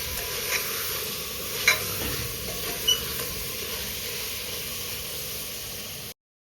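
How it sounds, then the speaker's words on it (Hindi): Spices with coriander powder and salt stir and cook in a pan with a soft, steady sizzle and occasional scraping clicks, close and alone, ending abruptly. "इन सब चीज़ों को भी अच्छे से मिक्स करिए, 1 से 2 मिनट पकाइए इनको।"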